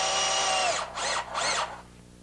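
A cordless power drill drives a screw through the back of a cabinet into a wall stud, one long whirring run followed by two short bursts, then it stops. The drill is close and loud, with no talking.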